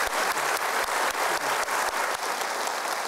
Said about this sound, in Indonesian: kita berikan aplaus juga ya